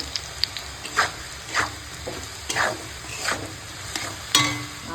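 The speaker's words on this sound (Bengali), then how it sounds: "আলু পেঁয়াজ আর কাঁচা লঙ্কা লবণের সঙ্গে ভাজা নিয়েছি" Potato, onion and green chilli frying with salt in a pan make a steady close sizzle, broken by regular scraping stir strokes about every half second, with no voices.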